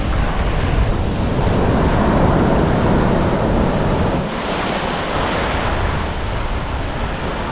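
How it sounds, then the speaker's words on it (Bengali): Sea waves breaking continuously on the shore at Golden Beach in Puri, a steady loud roar of surf with wind buffeting the microphone throughout. "আর ঢেউগুলো দেখুন"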